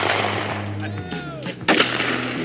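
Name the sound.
Glock pistol gunshots at a shooting range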